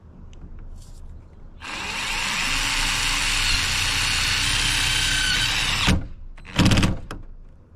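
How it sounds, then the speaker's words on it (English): Power drill driving a self-tapping screw into a camper van roof, a steady whirring run of several seconds, then a few short bursts and a knock, close and fairly loud, no talking. "The self-tap screws they'll go through it no problem"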